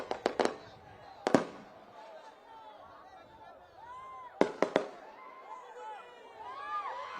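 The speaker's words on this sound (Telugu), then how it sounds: "టపాసులు ఆపండి రా బాబు." Firecrackers bursting at an outdoor public political rally, with sharp close bangs in quick clusters near the start and again later, spread among crowd noise and whistling rocket sounds.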